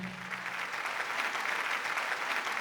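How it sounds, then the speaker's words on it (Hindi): Audience applause fills a hall at an Urdu poetry mushaira in Dubai, a steady, moderately distant patter of many hands clapping with no talk over it. "मुझे यकीन है कि आप उनके लिए तालियां बजा रहे हैं"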